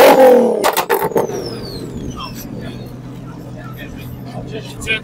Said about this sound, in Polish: każdy chce sobie zabłysnąć dźwiękiem silnika.